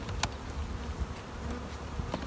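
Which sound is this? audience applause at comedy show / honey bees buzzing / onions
honey bees buzzing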